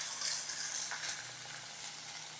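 Anchovies sizzle steadily in hot oil, a close, even crackle of frying fish with a brief stir or two and no talking.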